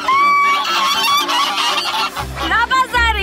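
Geese honking loudly and close by in the small town of Palmar, Uruguay, a burst of overlapping nasal honks that fills the short stretch with no talk.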